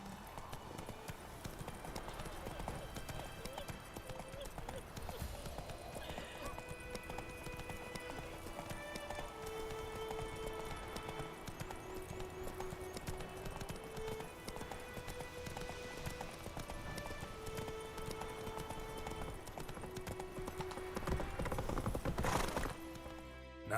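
Roach the horse gallops in Witcher 3, a continuous rhythmic clip-clop of hooves under a game soundtrack with sustained tones, growing louder toward the end.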